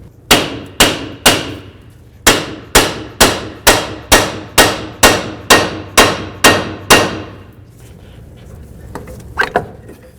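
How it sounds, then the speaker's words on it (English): A hammer strikes the front suspension knuckle of a 2009-13 Mazda 3 about fourteen times in a steady rhythm, loud and close with ringing decay, followed by quieter shuffling and a couple of faint knocks. "continue with the hammer right up along here"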